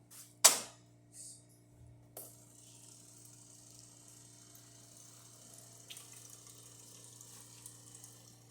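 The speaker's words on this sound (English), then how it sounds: "Let's test the hot water from here." Hot water runs from a De'Longhi Eletta cappuccino coffee machine after servicing, a soft steady hiss and trickle following a few sharp clicks and a brief burst, with a faint hum beneath.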